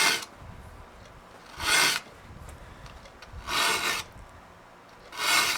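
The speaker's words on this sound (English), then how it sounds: "This blade isn't real dull, so it's only taking about 2 strokes per tooth." A hand file sharpens the teeth of a pole saw blade in three separate rasping strokes, close and crisp, with quiet pauses between them.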